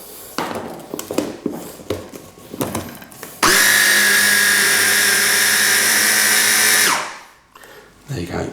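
Food processor blending Thai fish cake mixture in one loud, steady motor burst of about three seconds that winds down, after handling knocks and a few spoken words.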